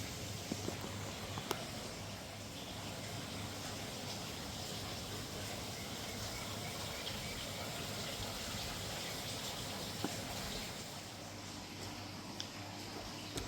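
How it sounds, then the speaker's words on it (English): A garden water feature outdoors in the early morning gives off a faint, steady rush of flowing water that holds evenly throughout, with no voices. "listening to the water feature."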